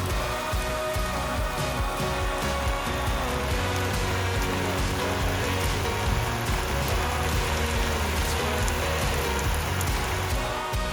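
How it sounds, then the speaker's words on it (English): Heavy rain pours steadily onto a garden lawn, a dense, continuous hiss of drops that stays loud and even throughout with no voices. "the garden got a deluge of rain, which was enough to saturate the lowest part of the lawn"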